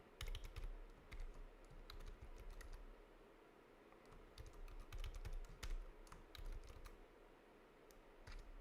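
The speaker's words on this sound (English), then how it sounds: "My typing is terrible" Someone types on a computer keyboard while using a Linux Mint terminal, quiet uneven bursts of key clicks coming in short clusters with brief pauses, close and faint with no talking.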